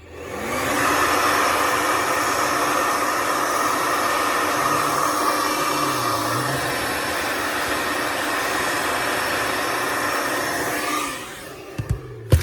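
A heat gun blows steadily on contact paper during a pop-up camper countertop makeover, giving a continuous loud whooshing roar that cuts off near the end and is followed by a few faint handling taps.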